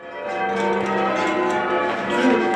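Church bells in Bulkington ring in steady, full peals that overlap continuously, loud and sustained throughout.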